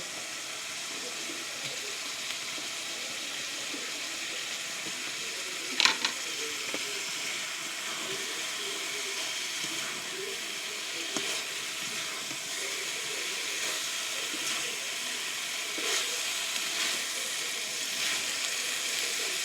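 Pointed gourd added to hot oil and spices in a pan, giving a steady close sizzle and hiss with a few faint clinks of stirring.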